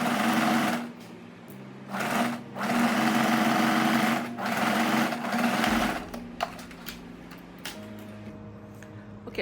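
A sewing machine stitches fabric for a reversible, backless scoop-neck top, whirring in steady bursts separated by short pauses, then stopping partway through as lighter clicks and handling noises follow.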